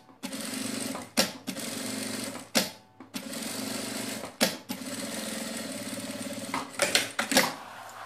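A sewing machine stitches a fabric bag in several fast, buzzing runs close by, each separated by brief stops, with a quick stuttering flurry of short stitches near the end.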